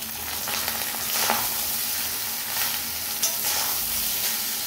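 Salted vegetables stirred and fried in a wok give a steady close sizzle, with scraping stir strokes breaking through now and then and no voices.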